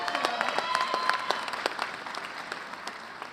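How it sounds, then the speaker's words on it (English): A live audience at a university event bursts into applause, a dense close wash of many hands clapping that gradually thins out over a few seconds, with no one talking over it. "let's give Yossi a round of applause"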